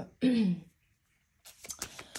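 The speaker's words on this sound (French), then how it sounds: "je racle la gorge de manière désagréable pour vous" A woman clears her throat once in a short, rasping burst, then goes quiet before a soft breath and rustle follow.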